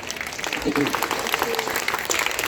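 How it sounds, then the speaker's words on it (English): Audience at a high school prize-giving ceremony claps for a prize winner, a dense, steady patter of many hands at moderate distance, with some talk mixed in underneath. "So give a big clap for him."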